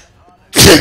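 A single short, loud, close sneeze bursts out suddenly after near silence.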